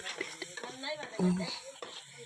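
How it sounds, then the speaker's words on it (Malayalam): Ginger and garlic are stirred in a frying pan after onions have sautéed in oil, with a soft sizzle and brief scraping strokes close by, under faint intermittent talk. "അതിലേക്ക് നമുക്ക് ഇഞ്ചി ആടാക്കാം എന്നിട്ട് നന്നായി ഇളക്കാം"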